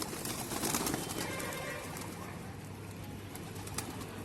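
Soft, low cooing from pigeons over a faint background hiss, a muffled repeated murmur that sounds close but quiet.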